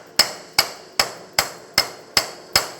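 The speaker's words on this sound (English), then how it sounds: "You may need to tap it with a sledgehammer as you're prying down" Sledgehammer tapping on the steering knuckle of a 2004-2009 Mazda 3 during a front right CV axle replacement: seven sharp metallic strikes at a steady, evenly spaced rhythm, close and distinct with no talk.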